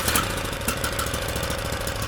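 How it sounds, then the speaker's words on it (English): A 420cc Yerf-dog go-kart engine fitted with a Stage 1 kit idles steadily with a continuous rough, knocking rumble. It sounds fairly close, with no voices. "Idling nice."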